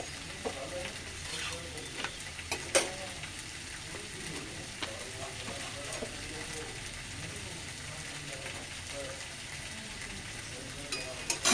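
Roti fries in a pan with a faint, low sizzle and occasional soft scraping and clinks of a utensil, quiet and close throughout.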